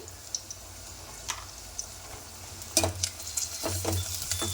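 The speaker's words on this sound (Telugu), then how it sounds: "ఆనియన్ ఫ్రై అయిపోయాయి ఇప్పుడు మనం కొద్దిగా పసుపు వేసుకున్నామండి" Onions frying in a pan with a little turmeric stirred in, giving a low steady sizzle with a few scraping stirs and clicks of the spoon, fairly quiet and with no talking.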